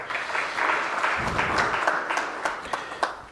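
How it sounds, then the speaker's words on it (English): A seminar audience gives a round of applause for a speaker, a full room of clapping that rises, stays steady and thins out toward the end. "Maybe let's give him another round of applause."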